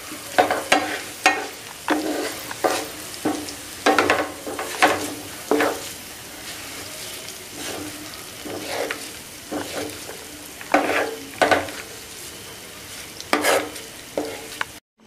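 Ivy gourd (kovakka) fries in oil over a gas stove, with a steady sizzle under repeated scraping and stirring strokes of a metal scoop against the pan, heard close and alone.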